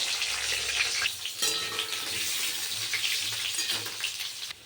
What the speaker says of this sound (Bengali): এবার আলুগুলো ভেজে নিই